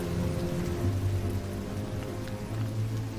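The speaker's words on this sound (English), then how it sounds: "not even a little rain can dampen this beautiful day" Steady rain falling in an animated TV show, a constant dense hiss with a low rumbling undertone throughout, no voices.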